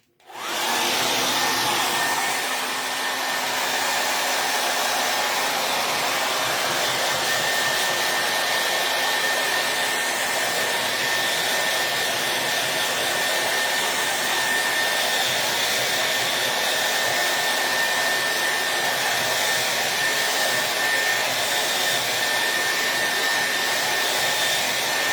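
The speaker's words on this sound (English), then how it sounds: "So I'm going to take the dryer to this real quick." A hair dryer blows steadily on a Chalkmade Bloom Kit craft project, a loud, close, continuous whooshing whir with a faint motor whine that runs unbroken for about twenty-five seconds without any talking.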